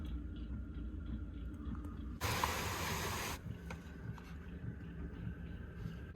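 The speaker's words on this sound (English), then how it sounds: "Look at how windy it is out here." Strong wind blows outside a truck camper on a snowy winter night as a steady low rumble, with one sharp, loud hissing gust partway through.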